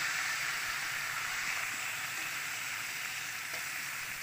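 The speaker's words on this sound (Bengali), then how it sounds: "ম্যারিনেট করা মাংসটা আমি কড়াইয়ের মধ্যে দিয়ে দিলাম, একটু ভাজা ভাজা করে নেব মাংসগুলোকে।" Marinated chicken sizzles in hot mustard oil in a wok, a steady, even frying hiss that runs on unbroken with no voices.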